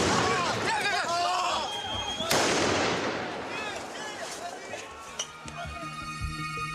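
A GLI-F4 tear gas grenade, a mix of tear gas and TNT, goes off once at a street protest with a single sharp, loud blast amid crowd noise and shouted cries, followed by a ringing, scattered aftermath.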